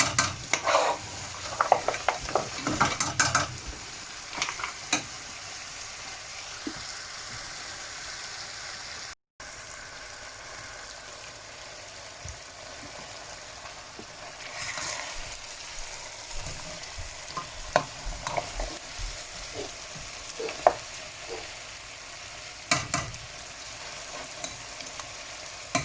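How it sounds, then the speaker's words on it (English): Lentils frying and being stirred into cooked spices and oil in a family pot for lamb dhansak: a steady sizzle with scraping stirs and spoon clatter, louder bursts early on, continuing throughout with no talk. "Now I'm going to add the lentils."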